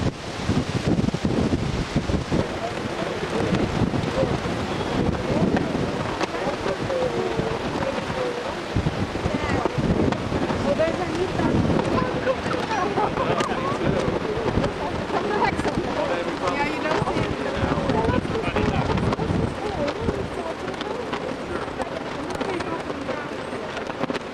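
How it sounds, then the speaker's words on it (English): Strong wind roars steadily across the microphone with buffeting gusts on a windy afternoon at the Statue of Liberty, Liberty Island, mixed with a rushing outdoor background and faint voices underneath. "here we are on a very windy afternoon"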